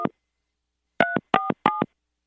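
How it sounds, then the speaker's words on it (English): Four short touch-tone beeps of a phone number being dialed on a telephone keypad, one brief tone followed by a pause, then three evenly spaced dual-pitch tones, clear and alone. "for his phone number, you just have to dial 3 numbers and it goes straight to him"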